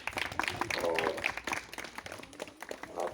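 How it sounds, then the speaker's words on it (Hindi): Audience applause welcoming a guest at a naturopathy training camp, a patter of claps mixed with talking, moderately loud and close. "उनका स्वागत करेंगे सभी लोग तालियों से,"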